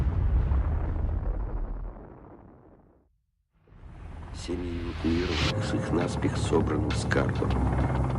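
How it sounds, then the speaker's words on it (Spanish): A roughly ten-megaton atomic bomb detonation: a deep roaring rumble fades to near silence, then a second loud blast surges back with whooshing, crackling debris and a sustained heavy roar. "La potencia de la explosión es similar a la de 10 millones de toneladas de TNT."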